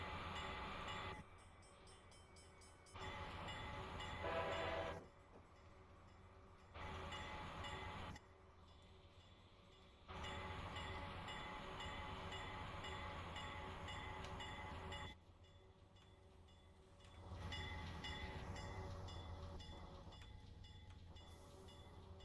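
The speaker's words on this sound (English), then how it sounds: "We got some, like, very good brakes on this locomotive" A Dash 8 locomotive on the Pacific Surfliner in Train Simulator 2021 rumbles and slows in uneven bursts, loud stretches broken by sudden drops, with rail clatter and mechanical tones throughout.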